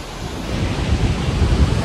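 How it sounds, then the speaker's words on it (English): A massive waterfall roars as a loud, steady broadband rush of crashing water, heard close and alone, with wind buffeting the microphone. "But here I am with the falls, everybody."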